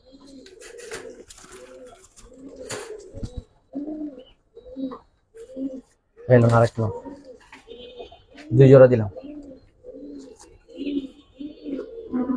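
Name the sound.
Giribaz and coloured pigeons cooing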